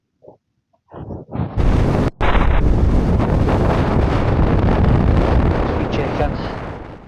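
Strong, steady wind roars across the microphone on a cold Scottish mountain summit near Loch Ossian, gusting in after a few short bursts and then blowing loud and continuous throughout.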